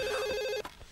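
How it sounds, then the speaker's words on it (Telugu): A telephone rings with a bright, steady electronic warble lasting about half a second, then cuts off, leaving a few soft handling knocks. "ఫోన్ రింగ్ అవుతుందండి."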